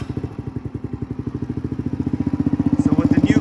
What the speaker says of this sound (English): with the new carbon fiber exhaust, you'll hear the difference in sound on a 50cc